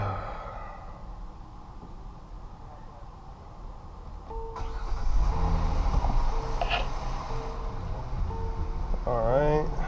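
A Kia with 105,000 miles and an air-conditioning problem starts up partway through, its engine catching and settling into a steady idle close by after a quieter stretch with a person talking.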